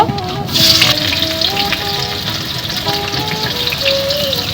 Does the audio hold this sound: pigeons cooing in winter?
no